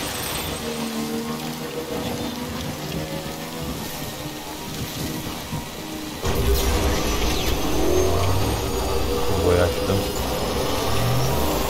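Rain falls in the video game Death Stranding, a dense continuous hiss that grows louder and heavier partway through, with low rumbling underneath and no clear talk.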